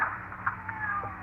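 A cat meows in a radio drama sound effect: a few short, plaintive cries at moderate distance. They sit over a low steady background hum, with no one speaking.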